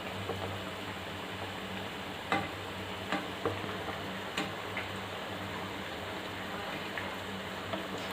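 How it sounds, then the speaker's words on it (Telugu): Mysore bonda frying in hot oil: a quiet, steady sizzling hiss with scattered small pops and ticks, heard close and alone. "బ్రౌన్ కలర్ వచ్చేలాగా వేయించుతూనే ఉండండి, వేగనివ్వండి."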